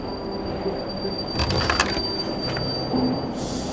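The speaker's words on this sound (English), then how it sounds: "Your train is here. It'll be leaving soon." Train at a station in the video game Torn Away, a steady low rumble of rail noise with a thin high whine, brief metallic clanks and hisses midway, and no voices.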